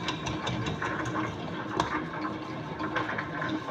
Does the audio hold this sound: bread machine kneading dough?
yes